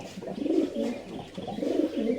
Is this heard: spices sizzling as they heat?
no